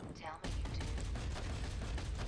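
Gunfire in the video game Batman: Arkham Knight, a loud, dense run of rapid shots that breaks in suddenly after a short voice and keeps going steadily to the end.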